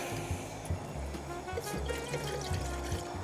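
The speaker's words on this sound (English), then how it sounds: "and get it filled with water." Water pours into a small titanium backpacking pot at a camp on the Oregon coast, a steady close trickle and splash with faint gurgling that runs on for several seconds with no talk.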